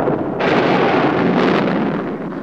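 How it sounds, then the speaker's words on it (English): A steady, loud rolling rumble of thunder fills a scene from a classic Western TV series as a drought breaks, with no voices over it. "Thunder and lightning."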